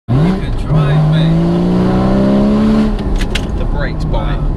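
A Porsche Cayman GT4 engine revs hard through gears, pitch climbing and dropping in loud sweeping pulls heard with the window open, followed by tyre squeal and abrupt clicks near the end.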